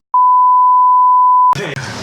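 A loud, pure censor bleep holds steady for about a second and a half in a travel vlog from Lansdowne, Uttarakhand, then cuts off abruptly as speech resumes.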